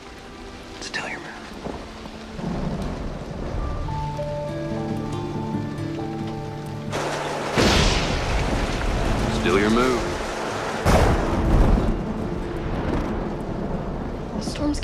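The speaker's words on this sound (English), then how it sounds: "The storm's getting worse." A Western-frontier thunderstorm brings steady rain and two loud thunder cracks in the middle and later part, with voices talking quietly over the downpour and some low sustained music underneath.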